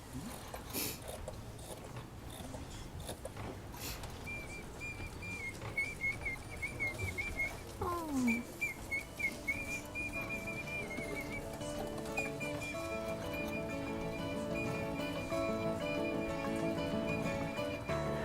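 Thin, high mechanical chirps and trills from a wind-up singing birds automaton repeat steadily alongside a tinkling, music-box-like mechanism, quiet and close.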